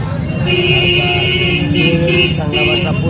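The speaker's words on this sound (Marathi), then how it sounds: "खालून एक गाड्या ट्रॅफिक" Road traffic with honking vehicle horns on the Triveni bridge at the Prayagraj Maha Kumbh on Mauni Amavasya, steady crowd and engine noise with several sustained horn toots, loud and close, under someone talking throughout.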